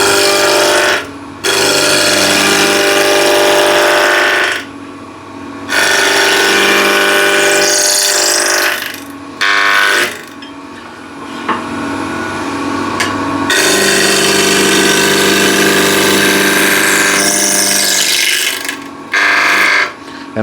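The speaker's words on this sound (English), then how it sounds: "So this is running at 14, almost 1500 RPM" A wood lathe spins a mahogany blank at almost 1500 RPM while a spindle gouge cuts it, giving a loud, steady, close whirring hiss broken by short pauses and gritty bursts.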